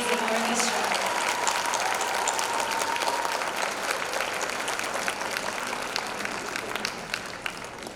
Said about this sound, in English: give a warm round of applause for the amazing orchestra